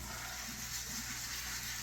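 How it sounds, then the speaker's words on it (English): A water sprayer hoses down rinsed foliage from a ball python enclosure in a sink, a steady broad hiss of spray that stays even and close throughout with no voices. "Now I'm going to rinse off my foliage."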